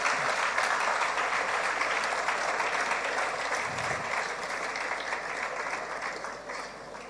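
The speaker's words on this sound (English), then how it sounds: "Please join me in welcoming with a round ovation, applause, Mr. Bolahon Joshua." Sustained audience applause welcoming a business leader onto a panel at a Lagos career fair, steady dense clapping from a crowd that carries on throughout and tapers slightly toward the end.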